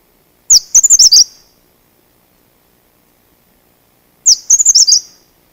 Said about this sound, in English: if you listen to their songs, this is the Setia